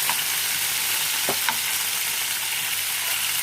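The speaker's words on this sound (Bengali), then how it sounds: "পেঁয়াজ কুচি ছেড়ে দিলাম। এখন নাড়তে থাকবো ততক্ষণ পর্যন্ত লাল না হয়ে আসে।" Chopped onions sizzle steadily in hot oil in a pan, a constant close frying hiss with a couple of faint stirring scrapes and no talking.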